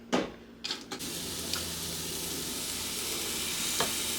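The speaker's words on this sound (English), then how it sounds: "So I just want to saute these vegetables just a little bit" Vegetables sauté in a hot pan while chicken noodle soup is prepared, with a continuous, close sizzle and a few brief scrapes or clatters from stirring near the start.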